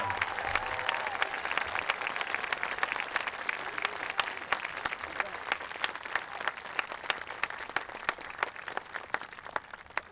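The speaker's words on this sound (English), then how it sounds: "let's have a round of applause for this school's extraordinary faculty and staff" A commencement crowd applauds a school's faculty and staff, a fairly distant, steady patter of many hands clapping, with faint crowd murmur mixed in.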